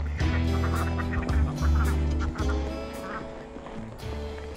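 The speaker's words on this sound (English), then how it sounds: "Come up here and see the ducks." Mallard ducks on a farm quack and honk loudly and close by in overlapping, repeated calls, with no talking.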